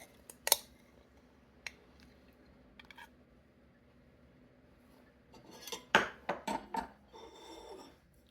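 A metal spoon scrapes and clinks against a pan while stirring pizza-style keto stuffing for peppers: a single sharp clink early on, a few faint taps, then a quick burst of several scrapes and knocks near the end.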